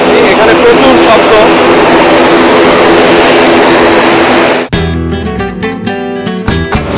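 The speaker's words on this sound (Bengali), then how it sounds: "আর আমরা কিন্তু এখন বিমানে উঠছি, এখানে প্রচুর শব্দ।" Loud, steady roar of a passenger airplane's engines while boarding a US-Bangla Airlines flight from Dhaka to Bangkok, a broad continuous wash that cuts off abruptly near the end, with voices in the background.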